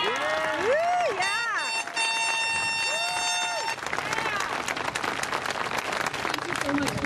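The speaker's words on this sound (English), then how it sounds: "Can we give them a round of applause?" Graduation audience cheering for classmates joining the military: whoops and sliding shouts ring out first, then broad applause swells and keeps going steadily.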